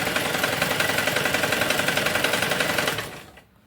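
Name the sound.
sewing machine stitching folded blouse dori rope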